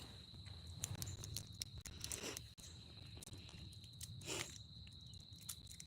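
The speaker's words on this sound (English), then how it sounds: "You hear the crickets?" Crickets chirp in a steady high-pitched trill outdoors at night in California, faint and continuous beneath scattered soft rustles and thumps nearby.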